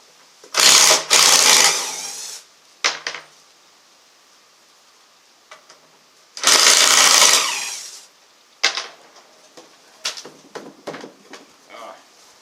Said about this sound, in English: I see a lot of people using screw guns for this, but an impact works so much better.